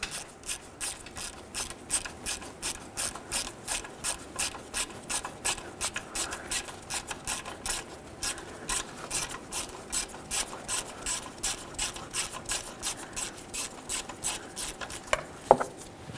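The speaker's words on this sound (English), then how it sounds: "Make sure you're holding onto the tensioner while you fully remove this bolt." A serpentine belt tensioner mounting bolt being removed on a 1998-2011 Ford Ranger 2.3L four-cylinder, heard as a fast, even ratchet clicking that runs on and on, close and alone, ending with a brief clunk.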